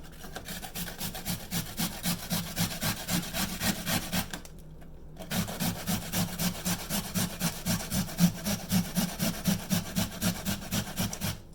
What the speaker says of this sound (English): I'm going to grate that on a fine side, because I really just want the juice now.